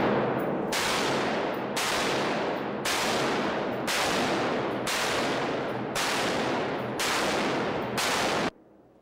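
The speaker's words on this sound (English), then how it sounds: "demonstrates how powerful an automatic rifle is" Automatic rifle fired at a shooting range, sounding as a continuous, loud, harsh roar broken into about eight long bursts separated by brief pauses, ending abruptly.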